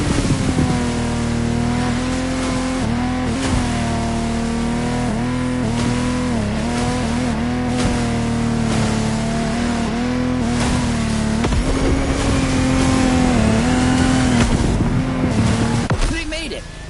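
Lamborghini Technomar speedboat engines roar continuously in The Crew Motorfest, a loud sustained droning whine that rises and falls with throttle changes, accompanied by wind buffeting and occasional splashing thumps before cutting off abruptly at the end.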